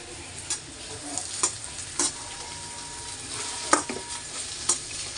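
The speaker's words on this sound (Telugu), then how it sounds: "సిమ్లోనే పెట్టుకొని ఫ్రై చేసుకోండి కాకరకాయని" Bitter gourd pieces fry over low heat in a pan, giving a soft, steady sizzle with scattered scraping and stirring clicks from a utensil, and no voices.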